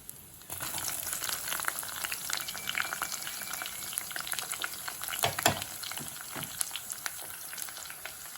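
Curry leaves and onion frying in a pan for a tinned fish curry, a continuous sizzle with sharp crackles and pops, plus occasional stirring scrapes, close and steady.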